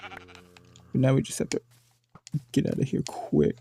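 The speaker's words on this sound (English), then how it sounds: "So we were coming back, we got the sheep." Minecraft sheep bleating in a wavering, nasal tone at the start and again later, interleaved with a person talking excitedly over game sounds.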